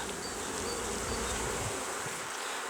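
Honeybees buzz steadily inside an open hive during preparations for the honey harvest, a dense, continuous close-up drone with no voices.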